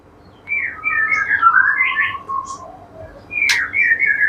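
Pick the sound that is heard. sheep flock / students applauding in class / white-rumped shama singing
white-rumped shama singing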